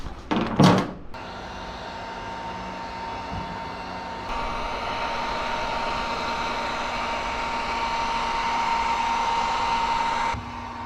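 A heat gun or hair dryer blows steadily for about ten seconds, warming a plastic interior panel for heat forming, a continuous close whooshing roar that shifts slightly in pitch midway, with a few knocks at the start.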